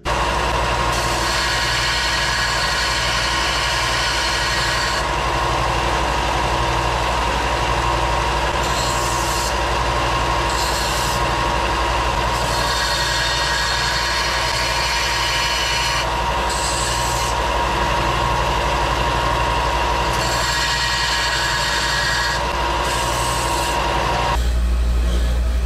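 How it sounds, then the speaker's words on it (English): A belt sander and wire wheel grind and polish titanium tent stakes with a steady, loud mechanical whir and rasp that pauses and resumes in stretches over the motor's hum. "I'm gonna use a belt sander, and then I'm just gonna quickly put these on the wire wheel to polish them up a little bit."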